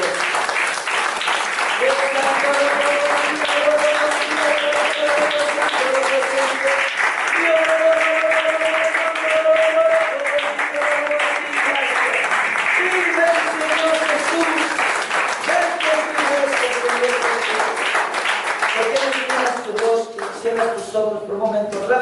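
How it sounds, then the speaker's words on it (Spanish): A church congregation breaks into loud, sustained applause for Christ during a sermon, with a sung or voiced melody carrying over the steady clapping throughout. "Den un fuerte aplauso a Cristo"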